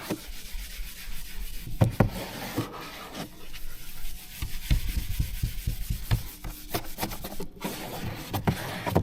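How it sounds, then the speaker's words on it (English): A scrubby pad rubs against the inside of a hatchback's rear window during window tint preparation, giving close, steady scrubbing strokes with irregular bumps and rises. "we're gonna clean the inside off with the scrubby"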